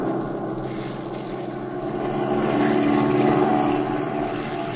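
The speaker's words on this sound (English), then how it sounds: "Oh, pilot, swing over so we can get a look at that plane down there." A propeller airplane engine drones steadily in a radio drama, a loud, continuous, rough roar that swells slightly midway, with no voices over it.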